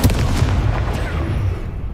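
In the Hogwarts Legacy video game, an Incendio fire spell goes off as a loud, rumbling burst with a roaring low crackle that fades toward the end, and no speech over it.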